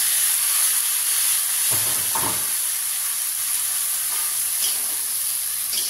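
Vegetables sizzle steadily in a hot pan with a few stirring scrapes, a continuous near frying hiss with no voices.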